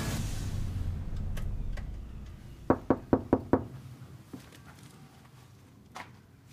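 Five quick, sharp knocks land close on an apartment door in a quiet hallway after background noise fades, followed by a few faint taps and one softer knock later.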